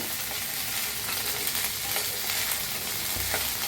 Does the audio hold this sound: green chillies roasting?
yes